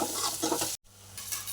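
Onion and tomato frying in a pan for biryani, with steady sizzling and scraping stirs, broken by a brief silent gap midway before the frying resumes a little quieter.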